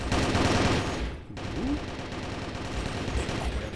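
In a Call of Duty Warzone match, dense overlapping gunfire from many support players rattles nonstop, loudest at the start, with a brief dip before the sustained firing resumes.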